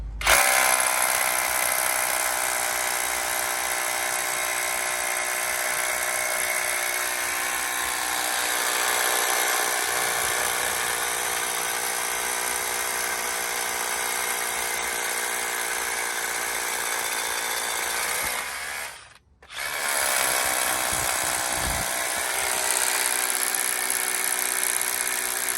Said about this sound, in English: Just the hammer drill mode.